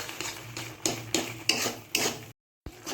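A spoon stirring a thickening milk cake mixture of milk, sugar and ghee in a pan: repeated scraping strokes at an uneven rhythm, close and moderately loud, with a short silent gap.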